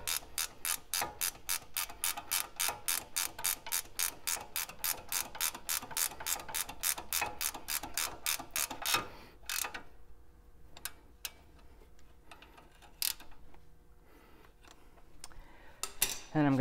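A hand ratchet snugging bolts on a 100 Series Land Cruiser CV axle, a rapid run of about two dozen even clicks, then scattered metallic clinks and a few isolated clicks, close and clear.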